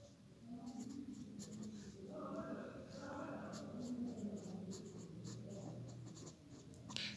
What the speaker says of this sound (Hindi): मैं आपके लिए नोट्स भी बना रहा हूँ